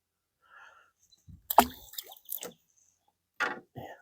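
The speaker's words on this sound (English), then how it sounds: "For a little fish, I made a big splash." Small bluegill fish splashing and flopping in water beside a boat, a few sharp wet slaps and plops separated by quiet gaps, close and fairly faint.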